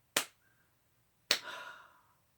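Two slow, deliberate hand claps ring out alone in a quiet room, a second apart, the second one sharper and trailing off with a short echo.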